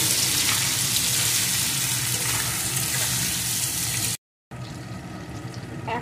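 Mixed vegetables for chilli paneer fry in a pan with salt, a steady close sizzle that runs without pause apart from one short gap.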